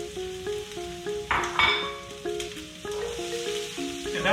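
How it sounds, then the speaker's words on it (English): Vegetables being sautéed in hot oil for an omelet, giving a soft sizzle with bursts of frying crackle as they hit the pan, plus occasional utensil clinks; music plays underneath. "If it's heated up enough, you're going to hear a sizzle"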